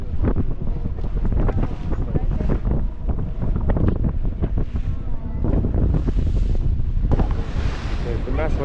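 A small boat crossing the water off Mumbai toward the island caves, engine rumble and splashing hull under heavy wind buffeting on the microphone, steady and close throughout.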